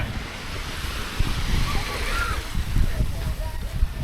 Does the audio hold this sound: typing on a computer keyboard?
no